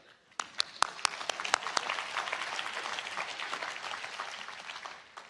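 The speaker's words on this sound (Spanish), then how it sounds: "gracias por el aplauso" A burst of applause from a church congregation during a sermon, starting with a few sharp claps and swelling into steady clapping that fades near the end.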